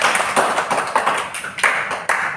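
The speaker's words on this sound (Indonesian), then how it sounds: "Kita berikan tepuk tangan dulu." A short burst of applause from a small group of children in a classroom, hands clapping in quick uneven rhythm, with no talking.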